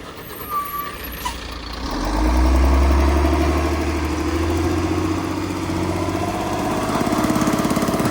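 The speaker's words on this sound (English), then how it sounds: "Got this old school dump truck or roll off." An old Volvo dump truck or roll-off truck labours uphill, its diesel engine a deep, loud, rough drone that swells after a quieter start and holds steady, with faint reversing-style beeps early on.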